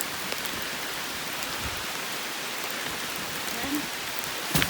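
Heavy rain pours on the Appalachian Trail near the Mahoosuc Notch, a dense steady hiss of drops close by with a few louder patters and knocks, and no voices.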